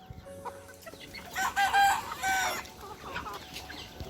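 Hens in an indoor poultry shed, flock noted for calcium deficiency, cluck repeatedly, with a louder cluster of calls midway over a steady background of farmyard noise; no one speaks.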